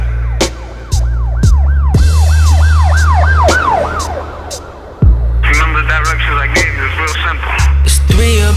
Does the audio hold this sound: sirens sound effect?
yes